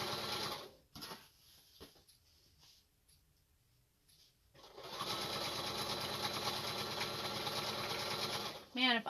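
Domestic sewing machine stitching the binding on a quilt: a brief burst, a quiet pause, then a long steady whirring hum of needle strokes, close and moderately loud, ending in a short clunk.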